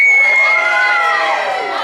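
A group of children screams and cheers loudly together at Exploration Place, a sustained, shrill crowd roar that slowly fades.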